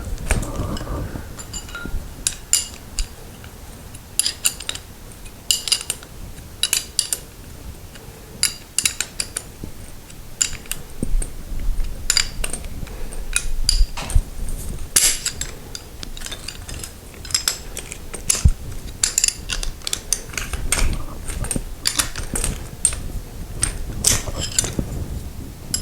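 A bolt and nut are tightened on a garage door spring, giving a long run of sharp metallic clicks and clinks in irregular bursts, like a wrench working against steel hardware, close up.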